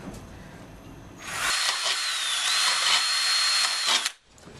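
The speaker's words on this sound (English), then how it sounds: "drill holes throughout your Solo cups" A power drill whirs steadily for about three seconds at close range, its pitch wavering slightly as it bites into a plastic Solo cup, then stops.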